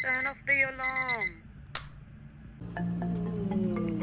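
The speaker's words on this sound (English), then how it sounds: "Turn off the alarm." An alarm clock rings in short repeated electronic beeping bursts, loud and close, then stops, followed by a brief knock and a steadier tonal sound at the end.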